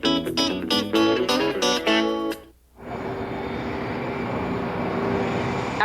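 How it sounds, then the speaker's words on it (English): A big, noisy C-141 Air Force transport plane carries passengers toward Antarctica, a steady loud roar filling the cabin after a short burst of music, with no voices. "Our final leg of the trip will be on a C-141, an Air Force transport plane. It's big, noisy"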